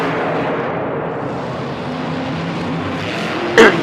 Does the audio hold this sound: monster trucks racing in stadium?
yes